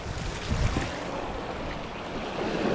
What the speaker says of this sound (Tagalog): Lakas ng alon ah.